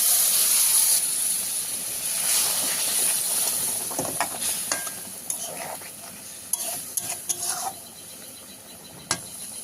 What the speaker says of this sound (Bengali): এবার আমি এখানে একটু সামান্য জল দিয়ে দেবো